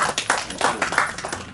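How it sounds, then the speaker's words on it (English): Applause from the audience at a poetry reading for a South Asian festival of Sufism and Buddhism in New Delhi, a short stretch of fairly faint, uneven hand claps. "A big round of applause for Mr. Mamun, please."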